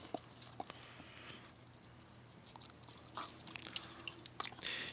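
A Jindo dog bites and chews a tangerine up close, making soft, wet crunches and smacks in an irregular rhythm. The sounds are faint but grow busier toward the end, with no talking over them.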